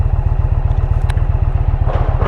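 A Harley-Davidson 124 Road Glide with a big-displacement engine, aftermarket intake, pipes and cams, rumbles steadily while being ridden, a loud, continuous low-pitched throb with a brief clatter midway.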